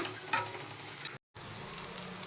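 Eggplant cooks in a hot pan with greens, giving a steady close sizzle and frying crackle with a brief stir, and the sound cuts out for a moment before resuming.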